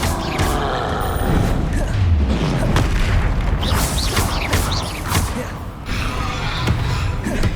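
Expelliarmus spell impacts in Hogwarts Legacy thud and crash repeatedly amid combat, several booming hits and whooshes over a rumbling battle bed, with a voice occasionally heard.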